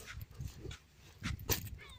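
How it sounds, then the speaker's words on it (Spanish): A dog at a fishing cove in Carelmapu whimpers and gives short yips and barks in brief bursts, close to the recorder, with outdoor background noise between the calls. "Mira el perro mañoso este"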